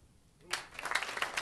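Clapping breaks out from an audience at a small festive gathering, starting after a brief quiet and building into scattered, uneven applause at low volume.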